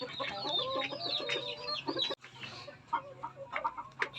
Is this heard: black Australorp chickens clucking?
yes